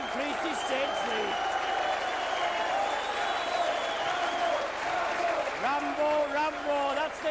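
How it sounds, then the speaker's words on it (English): A rugby league crowd at a 1987 St Helens versus Bradford playoff match cheers and applauds after a try, a loud sustained roar of clapping and voices filling the stadium while a commentator talks over it. "that's the cheer. He's receiving the plaudits of the crowd."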